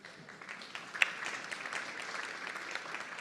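A conference audience claps lightly, starting soft and building into scattered, moderate applause, one sharp close clap standing out early before the sound settles into a thin, steady patter at a distance.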